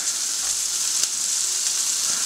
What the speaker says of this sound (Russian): Булки, жарьтесь.